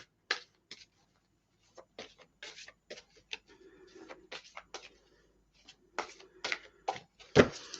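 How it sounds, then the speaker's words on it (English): Shuffling of large oversized inner child cards by hand, a series of soft irregular papery flicks and riffles, quiet and close, with brief pauses between bursts and no talk. "They're very big cards, so I always shuffle them like that, these ones."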